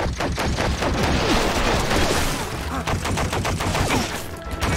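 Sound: gunfire from a gun in Stranglehold video game

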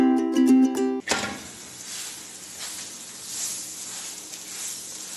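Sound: paratha frying with butter on hot pan

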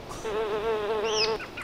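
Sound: bees buzzing and stinging in video game Aveyond

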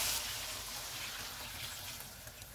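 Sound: water poured into frying minced meat for keema pulao

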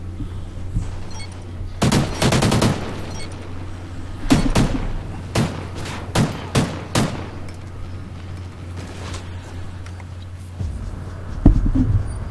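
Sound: gunfire in a video game

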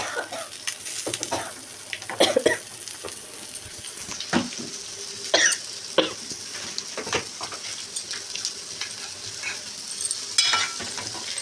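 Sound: spice tempering sizzling in pan for fish curry

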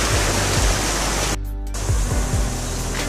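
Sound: river water flowing

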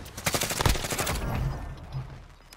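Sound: gunfire in the video game Warzone

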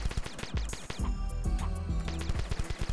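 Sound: shooting at blocks in video game The Desolate Hope

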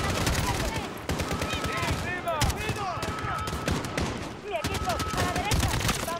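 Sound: gunfire from a video game

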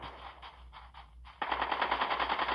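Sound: gunfire in a video game

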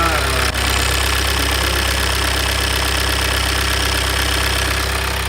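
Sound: Kia Carnival 4th generation engine starting and idling

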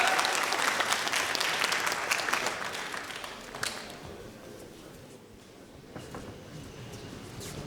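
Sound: audience applause welcoming a boxer

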